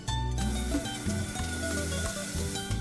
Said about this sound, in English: we always start by rendering the pork, cooking the bacon or the pork fat.